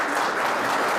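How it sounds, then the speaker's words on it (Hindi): A crowd applauding after CRPF soldiers sing at an Independence Day event, a dense, loud, even burst of clapping. "तालियां आपको बता रही होंगी"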